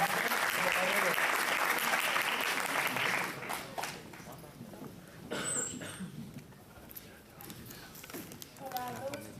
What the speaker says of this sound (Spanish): me gustaría que dierais un aplauso pues a Meriam, a Juanma y a Rodríguez.